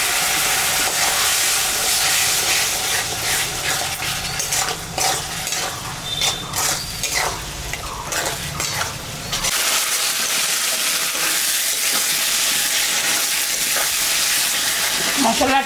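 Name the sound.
spice masala sizzling in pan after adding hot water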